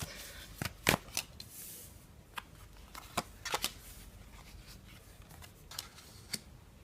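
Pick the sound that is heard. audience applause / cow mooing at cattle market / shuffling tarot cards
shuffling tarot cards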